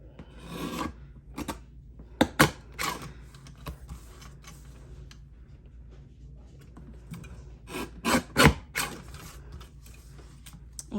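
Mini paper cutter trimming paper, a few close, sharp slicing strokes standing out from a quiet background, with a cluster of louder cuts near the end.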